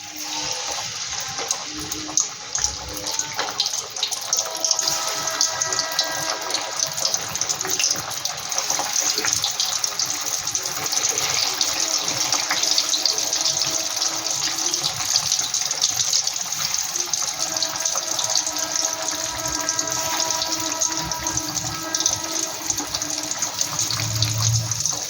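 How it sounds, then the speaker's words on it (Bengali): Prawn chops deep-frying in hot oil, a steady dense hiss and crackle that holds evenly throughout at close range, with faint bubbling underneath and no talk. "এবার আমি এক এক করে ভেজে নেব।"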